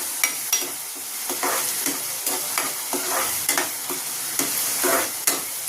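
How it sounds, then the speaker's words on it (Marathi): Onions sautéing in a pan for spicy misal, with a steady sizzle punctuated by repeated sharp spatula scrapes and clacks against the pan, close and fairly loud. "कांदा मस्त परतून घेतलाय"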